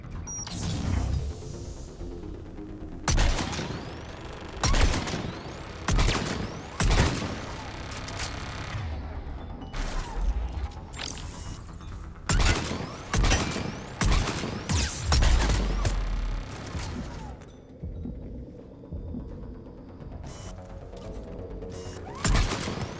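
Mass Effect 3 combat with bursts of gunfire and turret shots, sharp repeated cracks and rapid volleys scattered across the stretch, with mechanical clanks between them and quieter gaps.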